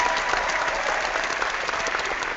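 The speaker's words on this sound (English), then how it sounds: "I have to give you all a round of applause again" An audience at a live hangout show claps and applauds steadily, a dense continuous patter of many hands at a moderate distance.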